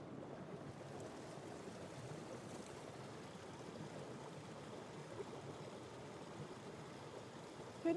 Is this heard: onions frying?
no